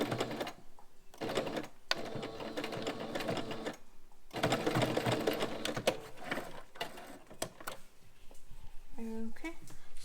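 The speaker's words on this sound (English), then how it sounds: "put my presser foot down, and sew, back stitch at the end" A sewing machine stitches a homemade fabric face mask in rapid mechanical bursts separated by short pauses, ending with a brief back-stitch, all moderately close and without speech.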